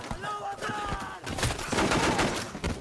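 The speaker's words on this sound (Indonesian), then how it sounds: "suara tembakan dari mana-mana" Gunfire from a film scene rattles in dense rapid bursts, loud and sustained with overlapping shots and echoes, while voices speak over it.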